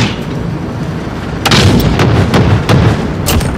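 Heavy cannon fire from a gunship's 105 and 40 guns in Modern Warfare 2019: a steady rumble, then a run of loud, sharp, evenly spaced booming shots with no voices.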